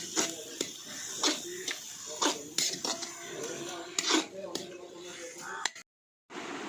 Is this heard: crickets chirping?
no